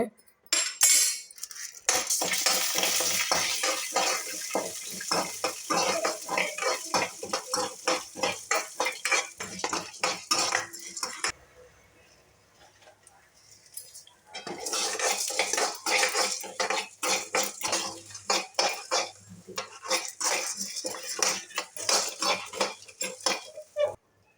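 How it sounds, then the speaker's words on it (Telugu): Lentils, coriander seeds, cumin, peanuts and dried red chillies dry-roasting in a pan, a busy rattle of rapid metal stirring and clinking that pauses briefly midway before resuming, close and fairly loud. "పప్పు ధనియాలు జీలకర్ర శనగపలుకులు ఎండమిరపకాయలు అల్లం ఇవన్నీ వేయించేసుకొని"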